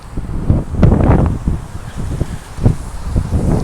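Strong cold wind gusting outdoors and buffeting the microphone, uneven rumbling bursts that rise and fall, loud and close, no clear talking.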